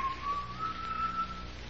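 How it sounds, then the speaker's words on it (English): A person whistles a thin wavering tune with a few sustained, slightly rising notes, fairly faint over a low background hum, with no talking. "That whistling, I can't stand it"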